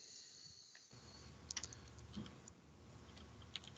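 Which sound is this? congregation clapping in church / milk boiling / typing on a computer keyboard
typing on a computer keyboard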